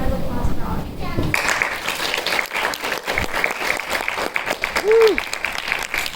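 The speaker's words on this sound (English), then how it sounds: "Let's give a round of applause for Audrey" Audience applause at a benefit concert, filling the hall with steady clapping after a quieter opening second, with scattered cheers and a brief whoop near the end.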